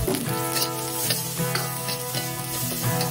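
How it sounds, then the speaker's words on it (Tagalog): Ginger and garlic sauté in hot cooking oil for a Filipino snail and fern coconut-milk dish, a continuous close sizzle with occasional stirring scrapes under steady tonal background music. "mag-prepare tayo ng mantika at igisa natin ang luya, bawang."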